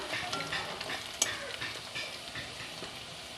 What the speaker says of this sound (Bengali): গ্যাসটা একদম লো ফ্লেমে রেখে পেঁয়াজটা ভাজতে হবে